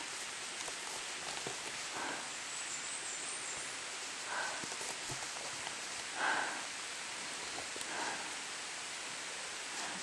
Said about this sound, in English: Okay, here comes the rain again.